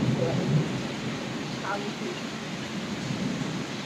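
Heavy rain pours down steadily as a dense, even wash of noise, with a low rumble like distant thunder underneath and faint voice-like sounds early on.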